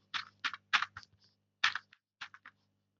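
Computer keyboard being typed on to enter code, about a dozen crisp, close keystrokes in quick uneven clusters with short gaps, quiet overall.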